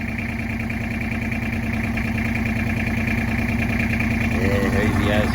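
An old Ford Falcon engine runs loud and steady, holding a constant drone as the car is pulled out of mud, with people talking over it throughout.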